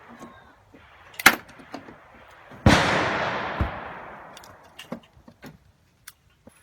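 At a shooting range, a .22 pistol fires two sharp, close cracks, the second with a ringing echo that trails off, among small clicks and handling noises of loading.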